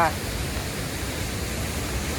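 Tat Ton waterfall gives off a steady, even roar of rushing water, heard up close from the bank while someone walks alongside it.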